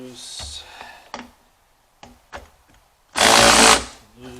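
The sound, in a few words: tool loosening clamps on 2000 Ford F250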